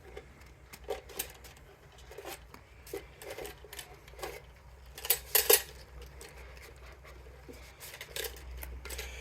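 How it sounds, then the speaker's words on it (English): Plaster debris is scraped out of a sink plaster trap. Faint, intermittent metallic scrapes and clinks come in short irregular bursts, with a brief cluster of louder scratches midway. "empty and scrape out any debris, plaster, whatever went through the plumbing into this trap"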